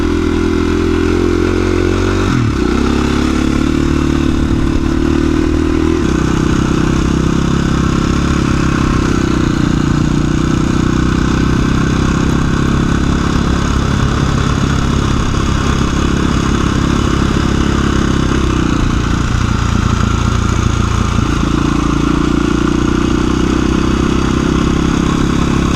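A dual sport adventure motorcycle cruises a nature trail, its engine droning steadily and loud up close for the whole stretch, with shifts in pitch as the throttle changes and no talking.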